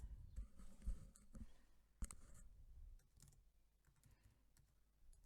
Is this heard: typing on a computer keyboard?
yes